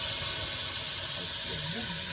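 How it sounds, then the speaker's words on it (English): Tap water pours steadily into a cooking pot in a home kitchen, a continuous close hiss and splash with no talking. "Let's put some water in the pot."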